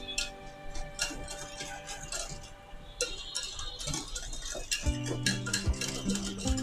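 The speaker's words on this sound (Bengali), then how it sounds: "এখন ভালোভাবে নেড়ে নেড়ে আমার চকলেট এবং ফোম মিলাতে হবে" A chocolate and whipped foam mixture for brownies being stirred in a bowl, with soft repeated scraping and light ticking taps of the utensil against the bowl, close and irregular, with faint background tones.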